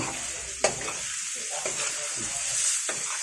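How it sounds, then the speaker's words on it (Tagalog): Cajun shrimp being stirred in a hot frying pan, a steady sizzle with a few sharp utensil scrapes and clinks against the pan, close and moderately loud, with no voices. "You can place 7 to 10 shrimp at a time. Then stir it up so it won't be overcooked."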